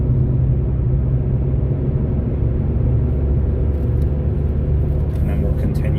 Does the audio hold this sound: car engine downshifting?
yes